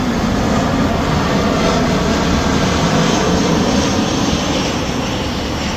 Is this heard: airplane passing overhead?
yes